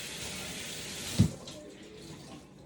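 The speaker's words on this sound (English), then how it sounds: "You're going to put water on it." Water runs from a tap onto a washcloth, a steady broadband hiss with a brief louder splash as the cloth meets the stream, then a softer trickle, close and alone.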